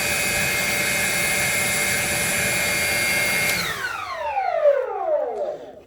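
A Freewing ME262 RC model jet's electric ducted-fan engines whine steadily at high pitch, then spool down, the tone sliding lower as they settle toward idle, loud and close indoors on a concrete floor.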